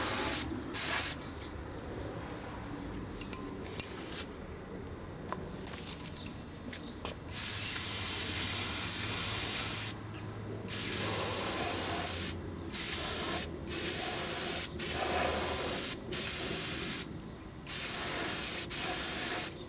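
Bursts of spray-gun hiss from painting a part in silver, with short gaps between passes that get longer and more regular later on, close and steady with no talk.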